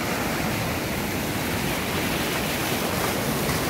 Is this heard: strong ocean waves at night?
yes